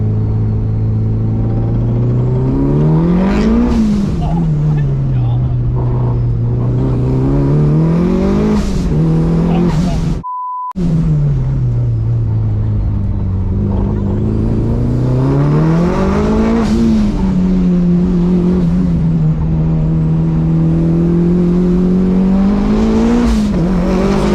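A Mitsubishi Evo 5 revs and accelerates repeatedly within a compound, held in low gear, its loud engine note rising and falling in several strong pulls, with a brief dropout midway and no talking.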